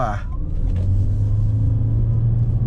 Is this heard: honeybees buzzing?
no